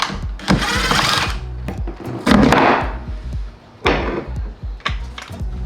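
A power driver with a T20 Torx bit removes the screws from a car subwoofer in a Lexus GX470, giving several loud, close whirring bursts broken by short pauses and clunks.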